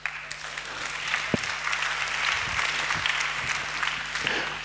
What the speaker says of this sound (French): Acclamons pour ces dames-là.